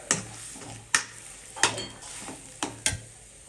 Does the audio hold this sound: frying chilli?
yes